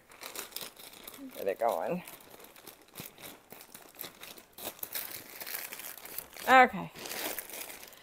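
A plastic package from a Temu order is cut open, giving crinkling and crumpling with a short tearing rustle, close and moderately loud while a person talks.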